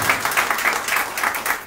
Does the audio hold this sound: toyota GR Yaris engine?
no